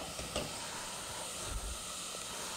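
Garlic sizzles steadily in a hot pan, a soft continuous frying hiss with faint crackles and an occasional stir, low and even throughout.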